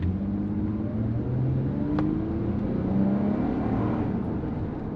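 A 2009 Acura MDX with a Honda engine revving into a low, steady growl, heard up close and continuous with a brief higher whine partway through, no voices.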